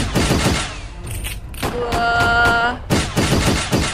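Gunfire in a video game: rapid bursts and sharp shots crack out in clusters, with a ringing tonal stretch in the middle, while a voice exclaims briefly over the action.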